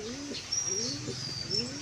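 Pet pigeons kept in a loft give soft, low, rolling coos in a steady repeating rhythm, close by and moderately loud over a faint background hiss.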